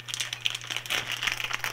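Crinkly plastic wrapping of a pack of Pork Bits sausages torn open by hand, with a steady run of close, crisp crumpling and crackling lasting under two seconds over a low background hum.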